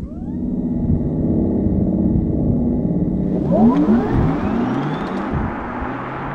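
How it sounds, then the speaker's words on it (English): A car accelerates with a rising synthetic whine and hum, the futuristic tone climbing in pitch over a low rumble, fairly close. "whenever you accelerate, it makes this incredible sound"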